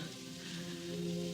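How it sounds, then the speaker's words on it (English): Steady rain falls continuously in the background of a quiet indoor scene, a dense, even patter with low sustained tones beneath it and no talking. "Won't the rain ever stop?"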